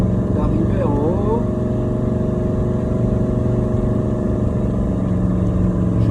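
An old Mercedes motorhome climbs a mountain road in second gear, its engine droning loud and steady throughout, with someone speaking briefly over it near the start.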